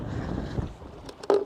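Strong, sustained wind sweeps across open water on a fishing boat, a rough, low buffeting rush against the microphone, close and steady, with a few brief knocks near the end.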